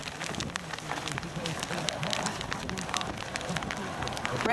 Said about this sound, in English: Rain coming in.